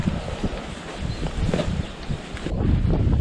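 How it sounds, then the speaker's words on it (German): Strong wind buffeting the helmets of off-road motorcycle riders on the Trans Euro Trail in Slovenia, a rough, gusty roar of microphone wind noise, loud and continuous with no talk. "Der Wind pfeift uns schon ganz ordentlich durch die Helme"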